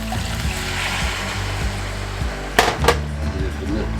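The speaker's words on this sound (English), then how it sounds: "Right here's the water." Water poured into a pan of Cheesy Italian Shells Hamburger Helper makes a soft, steady splashing hiss, with a couple of sharper splashes near the end and speech nearby.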